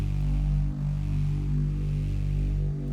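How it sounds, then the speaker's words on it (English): A warm, steady synth bass drones low and full, holding a sustained tone with a brief dip partway through and no voices. "Just a nice warm sounding bass."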